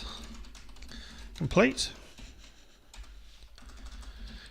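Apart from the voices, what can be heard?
typing code on a computer keyboard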